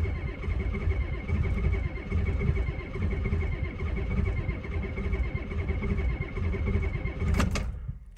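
A Ford F250 with a 7.3 IDI diesel cranks on a cold start and fails to catch, a loud, steady churning drone for about eight seconds that ends in a brief sharp clatter.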